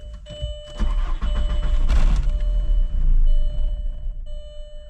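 A 2-week-idle VW MK4 Golf with a bad mass air flow sensor cranks and catches, its engine running rough and loud for a few seconds before it falters, with a steady electronic warning tone sounding throughout.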